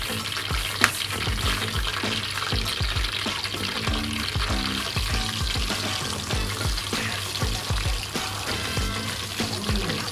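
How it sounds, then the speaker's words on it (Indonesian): Chicken pieces frying in hot oil for ayam goreng mentega, a loud steady sizzle and crackle filling the whole stretch, with occasional clicks and stirring clatter close by. "ayamnya digoreng ya kan"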